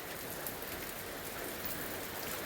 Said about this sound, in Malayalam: എന്ത് രസമുള്ള മഴ, സൂപ്പർ മഴ അല്ലേ